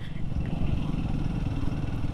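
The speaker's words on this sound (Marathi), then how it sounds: "कटकट कटकट नॉकिंग होतं थोडं." Royal Enfield Himalayan motorcycle engine running at high revs, a steady dense low rumble with a faint rapid ticking knock layered through it, continuous and close.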